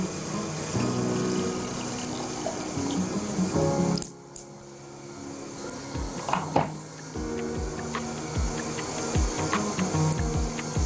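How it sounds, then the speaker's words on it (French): Boiling water is poured into a cooking pot while an Algerian dish is prepared, a steady loud splashing pour that stops briefly, then resumes with clinks of utensils. "Entre-temps, je rajoute de l'eau bouillante."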